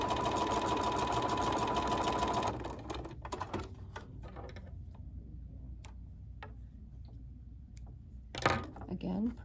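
A sewing machine stitches along the edge of a quilt panel with gingham fabric, running in a fast, loud, even whir for a couple of seconds, then stopping to leave scattered clicks and handling noises.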